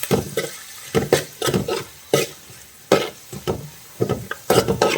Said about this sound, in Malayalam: എല്ലാം കൂടി ചേർത്തിട്ട് നന്നായിട്ടൊന്ന് വഴറ്റിയെടുക്കാം.